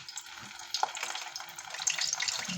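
Homemade lumpia fry in hot oil with a dense, crackling sizzle that holds steady and close, marked by occasional sharper pops and no talking.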